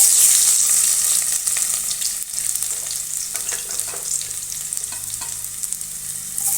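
Garlic sizzles in hot sesame oil in a pan, a loud, close crackling fry that eases slightly as it is stirred, with no one speaking.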